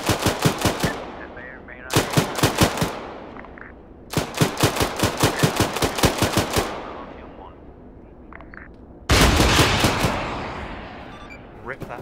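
Bursts of automatic gunfire from an Arma 3 battle crack out in several long volleys with short pauses between them, loud and close, each burst followed by a fading echoing tail and faint distant thuds.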